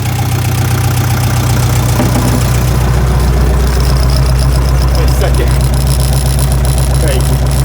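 A cold tractor's heavy diesel engine, not yet warmed up, idles steadily and loudly with a rough, knocking chug on a frosty day, while a person speaks briefly over it.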